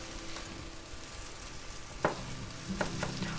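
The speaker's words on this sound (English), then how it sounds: "go ahead and kind of fry them up and leave them kind of big, the eggs" Eggs frying in a pan for a Chicago-style peppers and egg sandwich give a steady soft sizzle, with a couple of sharper clinks and stirring scrapes near the end.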